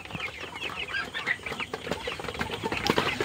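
Clucking tiger chickens fill a poultry farm with continuous overlapping calls, moderately loud and close, with scattered sharper squawks from the flock.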